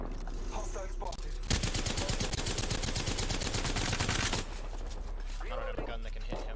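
Rapid automatic gunfire in the Apex Legends video game, a dense sustained burst of shots lasting about three seconds amid quieter game sounds and a voice.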